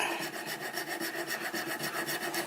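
A fret file cuts a string slot into a bone guitar nut with a steady rhythm of rasping back-and-forth strokes, about eight per second, close and even in loudness, with no talking.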